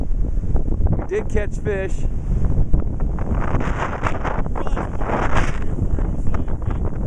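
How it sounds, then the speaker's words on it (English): Strong wind buffets a microphone on a lake during a windy fishing trip, a steady loud rumbling roar, with people talking briefly over it. "I said with this wind, you're not hearing a word on this, right?"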